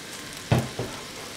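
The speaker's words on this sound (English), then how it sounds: "I'm gonna fry that out now" Spicy mashed potato fries in oil in a pan, a steady faint sizzle with two brief louder stirring scrapes, no voices.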